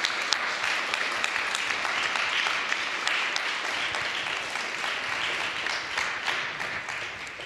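Sustained applause from a conference audience honoring a Nobel Peace Prize laureate, steady dense clapping throughout without a break, moderately loud and hall-like.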